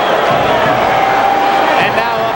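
Boxing arena crowd at the Pernell Whitaker versus Poli Diaz fight, a dense steady roar of many voices with a rhythmic chanted tone running through it, loud and continuous throughout.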